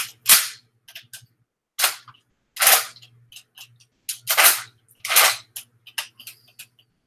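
A toy blaster fires spitball-like projectiles in a series of sharp, snappy pops, about five or six distinct shots spaced irregularly with quieter clicks between, close and crisp against a faint low hum.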